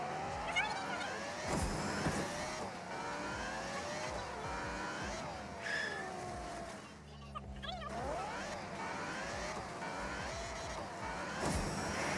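A car driving in Fortnite Rally Royale, its engine droning and shifting pitch continuously, with a brief low rumble midway, while a player talks over it.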